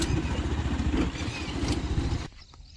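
A motorcycle engine rumbles steadily and close by on a ride out to a village farm field, with a rhythmic low throb that drops away abruptly near the end.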